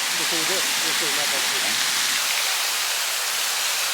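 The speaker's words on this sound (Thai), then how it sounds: "ตอนนี้น้ำพุเนาะ water fountain" Splashing water from a city fountain in Olympia, Washington, a steady broadband rush heard close by, with someone talking over it during the first second or so.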